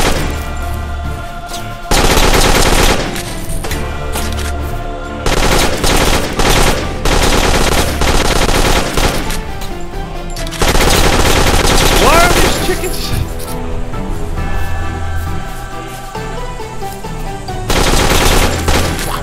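Automated turrets in the farm-defense game Dead Acres fire long, loud bursts of rapid gunfire, repeating in sustained volleys with brief pauses between them, with occasional talk.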